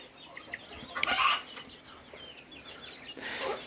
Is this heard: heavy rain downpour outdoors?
no